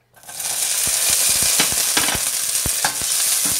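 Pistachios sizzle in hot fat in a pan for a sheer khurma vermicelli dessert, a loud, close, continuous frying hiss broken by sharp scrapes and taps of stirring.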